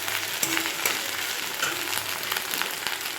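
Ground spices fry in oil in a pan with a steady close sizzle and soft crackles, moderately loud and brief, with no talk.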